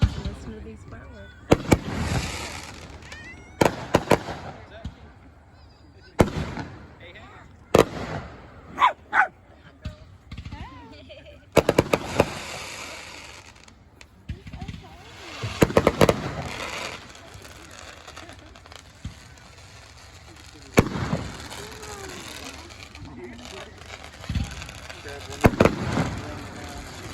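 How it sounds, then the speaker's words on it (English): Fireworks going off outdoors in repeated loud cracking bursts spread across the whole stretch, with dogs barking and yipping between them and voices now and then. "Listen to these fireworks."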